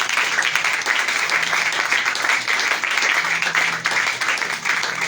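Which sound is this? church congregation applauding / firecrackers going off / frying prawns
church congregation applauding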